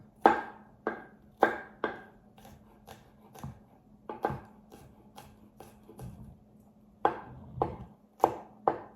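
Three cloves of fresh garlic are chopped with a knife on a board for a shrimp and andouille sausage stuffed mirliton dish, giving sharp, close knocks in bursts of quick strokes with short pauses between them.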